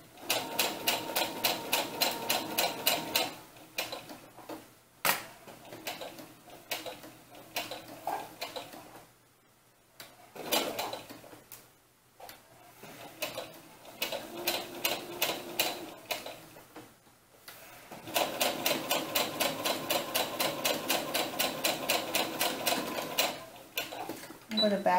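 Sewing machine stitching a godet doll dress, with bursts of rapid even needle clatter separated by pauses and quiet handling, lifting and turning the fabric at a curve, and backstitching over a front seam; a voice speaks between runs.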